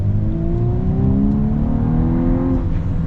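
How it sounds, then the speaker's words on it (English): A 2024 VW Atlas accelerating hard, its engine note rising steadily in pitch over a few seconds and holding loud and close throughout; the turbo blow-off is not distinct. "You got a little turbo blow off. That's kind of fun."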